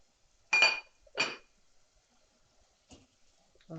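A cooking pot lid clinks open twice in quick succession, sharp metallic chinks in a quiet kitchen while masala oats vegetables simmer, followed by a faint tap and a short clatter.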